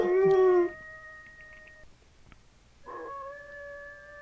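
A Minecraft werewolf lets out long, drawn-out howls, one loud wavering cry followed by a pause and a second steadier howl, close and alone with no talk.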